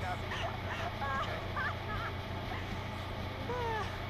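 A bird honks in the video game Until Dawn 2: Teen Drama, giving several short goose-like calls over a constant low game hum.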